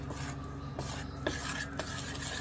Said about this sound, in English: So you stir it until it's smooth